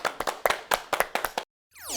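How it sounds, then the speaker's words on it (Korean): Hands clapping in quick, even applause, about ten crisp claps close by, then a brief silence followed by a rising electronic swoosh. "박수"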